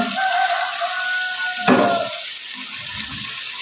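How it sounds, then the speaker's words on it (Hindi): Boiled black chickpeas fry with spices in a pan, giving a steady hiss and sizzle with a brief louder burst of stirring partway through, close and alone. "सभी इन मसालों के साथ चनों की अच्छे से भुनाई कर लेनी है।"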